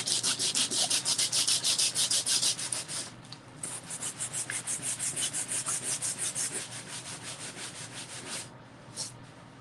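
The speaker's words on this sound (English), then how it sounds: "I'm scrubbing hard and it's really not showing much." Rapid rhythmic scrubbing strokes across a painting surface, a harsh brushy rasp repeating steadily up close, pausing briefly partway through before continuing with slightly softer strokes.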